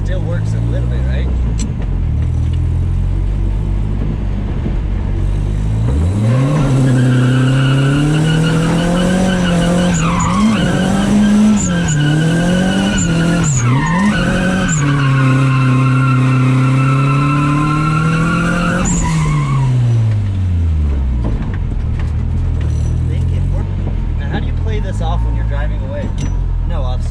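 A right-hand-drive Nissan S13 lets out a long, loud tire squeal with rising and wavering pitch during a skid, engine roaring beneath, then fades back to idle rumble.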